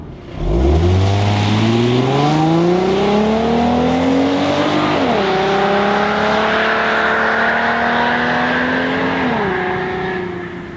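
A 2013 Ford Mustang V6 engine revs up hard through several gear shifts, its pitch climbing, dropping at each change, then climbing again, loud and close.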